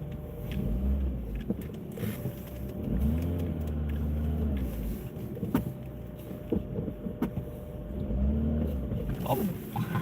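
A car manoeuvres in a cramped parking spot, its engine revving in short, repeated surges between quieter idling stretches, fairly close, with scattered clicks and knocks and light wind noise.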